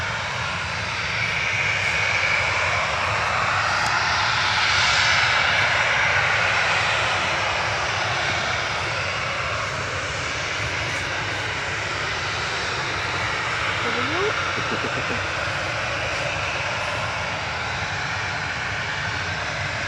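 Airliner engines run on the ground at Manchester Airport, a loud, steady roar that swells and eases slightly as the plane waits near the runway, with no voices.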